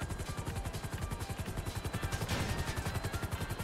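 Rapid, evenly spaced bursts of automatic gunfire in GTA 5 rattle continuously at a steady rhythm, fairly distant and muffled, with no voices.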